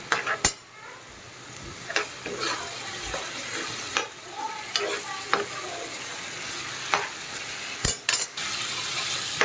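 Chicken tawa fry being stirred and sautéed with garlic cloves in a pan, with steady close sizzling, sharp spoon and pan clinks throughout, and a faint voice now and then.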